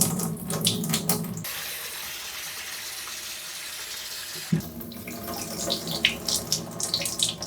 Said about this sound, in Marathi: त्यामुळे 3 ते 4 वेळा तरी खंगाळून साबुदाणा चांगला धुवून घ्या